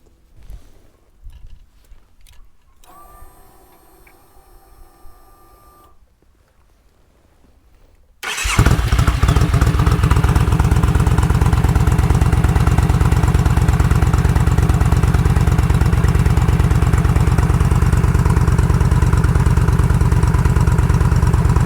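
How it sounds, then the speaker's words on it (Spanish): A Yamaha XVS950A motorcycle with a Vance & Hines exhaust starts after some quiet clicking and faint tones, then settles into a loud, steady idle that runs uninterrupted. "ahora vamos a escuchar la moto"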